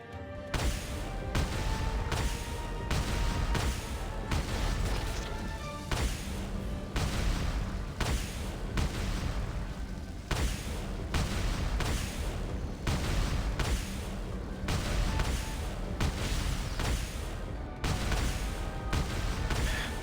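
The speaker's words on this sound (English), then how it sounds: "So I aim the cannon." A cannon in a video game fires at a golem, sending out a rapid series of heavy, booming blasts that keep going with little pause throughout.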